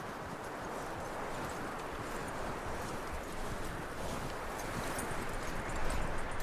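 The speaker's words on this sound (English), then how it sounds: "That looks like a decent horse." Horse hooves in the Red Dead Redemption video game, a fast steady clatter of clip-clop steps running continuously under a wash of wind and rustling, moderately loud and unbroken.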